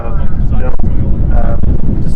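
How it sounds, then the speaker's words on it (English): Wind buffeting the microphone at Manchester Airport visitor park, strong rumbling gusts throughout with people talking over it. "same so windy"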